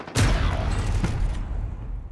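Gunfire in Call of Duty Warzone: one sharp, loud shot sets off a rapid burst of fire, which is followed by a sustained, rumbling clatter of shots that slowly fades, with no talk.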